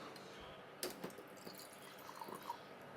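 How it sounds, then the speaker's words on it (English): A small amount of water is poured into a blender holding soaked and fresh chili for a mee siam spice paste, a faint, brief trickle with a few soft splashes and drips. "We shall add a little bit of water."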